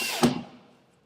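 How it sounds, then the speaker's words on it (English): A single short whir of a power drill driving a FixArt panel clip screw into wood, sharp at first and then trailing away to quiet within a second. "So I'm screwing into wood here, which is a lot easier for demonstration purposes."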